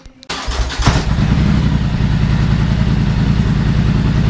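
A Can-Am Scrambler 1000XP side-by-side fitted with an RJWC exhaust fires up with a sharp start, then holds a deep, throbbing rumble that stays steady and loud at close range, no one talking.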